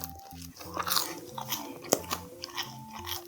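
A bite into crispy salt bread gives a sharp close crunch, followed by softer chewing over quiet background music.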